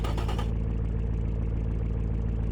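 A Chevrolet LS3 replica V8 engine idling in the Automation car-building game, a steady, deep pulsing burble with a loping rhythm, close and continuous after a brief start-up flourish.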